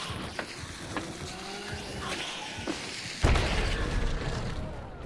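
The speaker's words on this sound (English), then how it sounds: "Let's throw the grenade." Grenade blast inside a building in Hunt: Showdown, a sudden loud broadband boom with a rumbling tail, preceded by scattered thumps and faint game noise.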